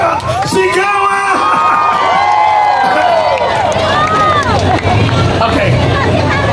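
Crowd at a Duterte rally calling for his return cheering and shouting: loud, dense babble of many voices with rising and falling yells and whoops, continuing throughout.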